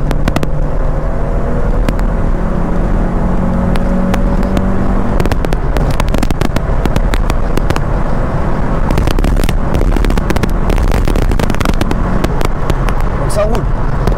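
A VW Jetta GTX with a 1.8 litre 112 hp engine driving, loud steady engine and road noise filling the cabin while someone talks over it throughout.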